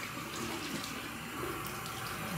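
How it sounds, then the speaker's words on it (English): Tap water runs steadily into a bathroom sink during face rinsing, a constant close splashing hiss at low volume, with no talking. "And then I always rinse my face 7 times"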